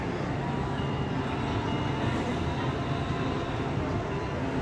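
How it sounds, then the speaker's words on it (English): A train rumbles steadily along a nearby track, a continuous low roar at moderate volume with no other sounds standing out. "Oh, and then we have a train. The train track isn't too far away either."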